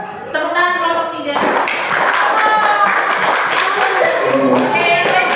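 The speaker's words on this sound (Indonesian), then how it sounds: "Tepuk tangan kelompok 3." A classroom group applauds in a burst of clapping lasting several seconds, mixed with children's voices and a teacher speaking over it.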